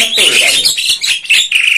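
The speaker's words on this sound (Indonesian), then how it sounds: "ini dalam keadaan aviari siang kali ini yang sangat ramai sekali dengan jalak" Jalak starlings call nonstop in a crowded aviary by day, a dense, loud mix of close chirps, squawks and whistles with no pause.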